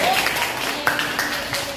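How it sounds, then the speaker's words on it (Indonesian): A class applauds a group that has just presented, a short, dense patter of clapping with a voice talking over it. "beri tepuk tangan dulu untuk kelompok yang maju"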